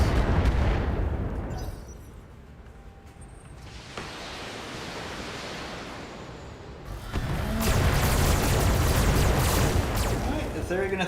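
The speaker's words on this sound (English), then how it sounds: "Let's see if we can get this Condor with release of missiles." A barrage of missiles from a Condor in Battletech rumbles and roars as a dense wash of explosions, with a quieter stretch in the middle before a louder crackling burst, under intermittent talk.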